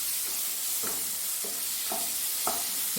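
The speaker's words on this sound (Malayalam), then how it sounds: "ഇനി ഇതിലേക്ക് നമുക്ക് ഈ തക്കാളി ഇട്ട് കൊടുക്കാം തക്കാളി ഒന്ന് നല്ലപോലെ ഒന്ന് വഴറ്റി വഴറ്റിയെടുത്തിട്ട്" Tomatoes fry in a pan for egg rice, a steady hiss of frying broken by four or five rhythmic stirring scrapes of a spoon against the pan, no talking.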